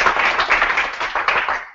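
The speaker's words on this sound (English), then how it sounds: "So, a round of applause, please," Audience applause for a nominated paper at the 2014 Algerian Paper of the Year awards ceremony: a steady burst of many hands clapping, fairly loud and close, lasting under two seconds before stopping abruptly.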